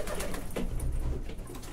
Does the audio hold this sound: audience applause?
no